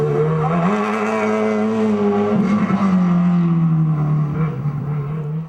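A Subaru all-wheel-drive rally car at the 2005 Targa Newfoundland road rally roars loudly and close. Its engine holds a steady, strong drone, rises in pitch midway, then eases back down as it runs past.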